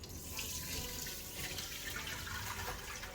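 Homemade Jamaican sorrel wine pours through a regular kitchen strainer, a steady close splashing and trickling of liquid that runs continuously without pause.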